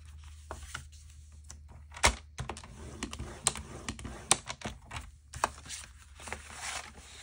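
Paper being scored and creased for a handmade spooky flip-flop craft journal: a series of soft scrapes, taps and crisp clicks at close range in a quiet room, with no talking.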